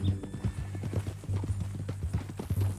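Horse hooves clip-clop at a walking pace in Red Dead Redemption 2, a steady close rhythm of hollow thuds alongside a low droning tone, with an occasional faint snort or neigh.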